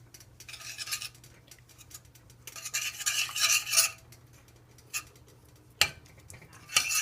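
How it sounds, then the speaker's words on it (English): A utensil scrapes and clinks in a pan as curry paste is stirred in, coming in short bursts and a longer rasping stretch, with a low steady hum underneath and no voices. "I'm just going to add it in there and mix it in"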